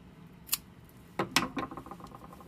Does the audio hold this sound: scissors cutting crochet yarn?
yes